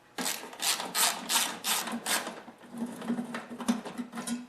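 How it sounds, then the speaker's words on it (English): Bolts being worked loose with a wrench on a Murray Noma snowblower, giving a run of close scraping, ratcheting strokes in quick bursts with a faint steady hum underneath. "Now you'll need to remove these two bolts over here and loosen two other bolts down there."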